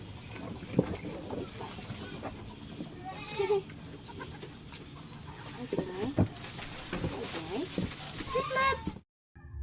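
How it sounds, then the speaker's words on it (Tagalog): Newborn triplet goat kids bleat softly in short, scattered calls, fairly faint, beneath nearly continuous talking in a quiet farm setting. "nakapanganak ng triplets ang kambing mo"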